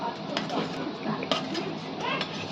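Semolina and a banana stirred together in ghee in a pan, scraping and clinking of the utensil against the pan over a soft frying hiss, with brief sharper knocks, continuous and close.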